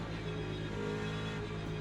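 A loud unmuffled race car engine in the Le Mans Ultimate sim at COTA drones at steady high revs, a dense tonal buzz holding close and constant throughout with no talk.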